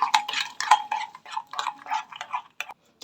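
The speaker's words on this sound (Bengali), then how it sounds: "চিনিটাকে ভালো করে ফেটে নিতে হবে।" Sugar and eggs being whisked by hand in a bowl, a quick run of close, even clinking strokes that keep a steady rhythm, with no voices.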